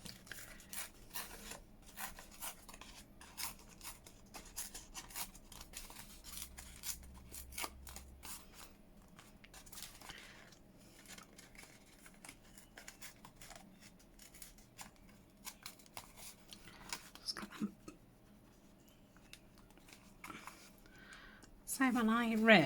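Paper is torn by hand around a shape in a long series of close, dry ripping and crackling strokes that come in irregular bursts, with a brief voice near the end.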